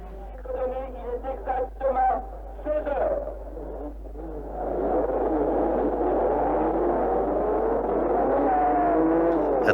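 Race cars roar into life at the start of the 1954 Le Mans 24 Hours, a dense, sustained engine din building after a few seconds of voice-like sounds and holding loud to the end.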